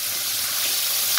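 Beef sears in a hot pot for a Vietnamese wine-braised beef stew, a loud, steady, close sizzle and hiss of frying meat with no talking.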